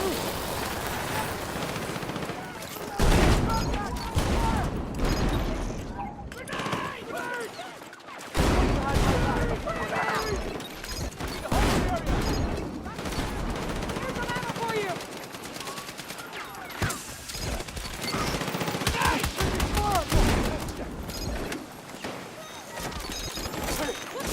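Automatic and burst gunfire from Battlefield 6 crackles loudly and almost continuously, punctuated by a few brief lulls, with shouting voices mixed into the firefight.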